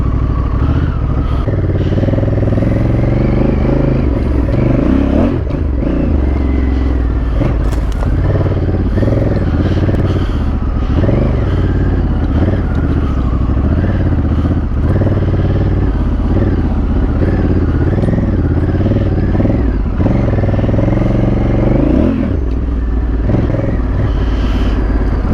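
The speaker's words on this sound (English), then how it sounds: "We can't hit whoops on this bike, Dave." Motorcycle ridden off-road over rough, deep terrain, its engine loud and close throughout, revving and surging continuously with clattering from the bike over bumps.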